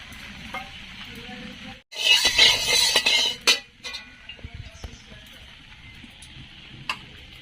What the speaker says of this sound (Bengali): কড়া গরম হয়ে গেছে, দিয়ে দিচ্ছি তেল।